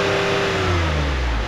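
A 2020 Chevy Blazer RS launching from a stop, its engine revving with a steady rising drone close to the microphone, loud and continuous with no talk.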